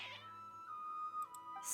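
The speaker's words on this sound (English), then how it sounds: "Your cats seem pretty worked up." Cats meowing in Genshin Impact, a short agitated cry that rises and wavers for under two seconds with faint background music.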